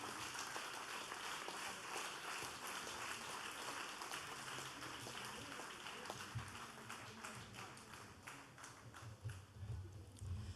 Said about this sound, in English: A round of applause once again for Dr.